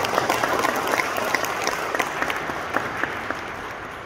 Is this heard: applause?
yes